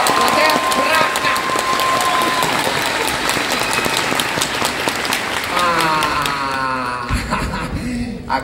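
An audience at the final performance of a Charlie and the Chocolate Factory stage show applauds in a dense, steady wave of clapping that fades near the end, with voices mixed in.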